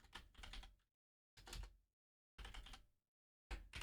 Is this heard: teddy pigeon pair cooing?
no